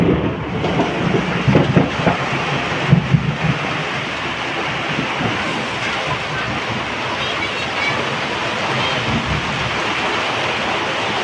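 Steady heavy rain pouring, a dense hiss with faint rumbles underneath, continuous and fairly loud.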